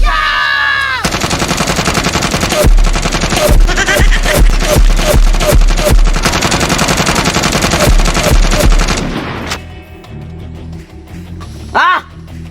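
Rapid bursts of gunfire from guns in a Filipino comedy skit, loud machine-gun-like volleys and single shots clattering for several seconds, then stopping abruptly before a brief shout.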